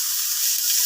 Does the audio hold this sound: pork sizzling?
yes